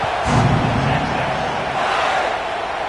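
A stadium crowd roars with broad, steady cheering at the kickoff of a Red Raiders college football season opener, a dense wash of voices holding loud and continuous throughout.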